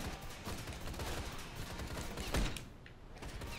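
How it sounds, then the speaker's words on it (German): Gunfire in the motorcycle action game Ride to Hell: Retribution, a dense continuous clatter of shots across the whole stretch, with one sharper, louder burst near the middle and a faint, thin layer of mechanical noise. "Also wir schießen jetzt auf Gegner"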